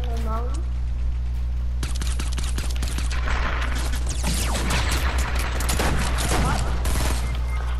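Rapid bursts of video game gunfire crackle through most of the stretch, dense volleys near and loud, with excited voices talking over the shooting.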